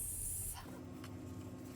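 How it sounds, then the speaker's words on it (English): A short hiss of disinfectant spray hits tools in a sink, a single close burst lasting about half a second before the hiss cuts off into quiet room hum. "you want to spray on this everywhere"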